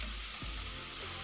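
Cabbage pakoda fritters frying in hot oil over a lowered flame, a steady, close, dense sizzle that runs without a break and with no talking.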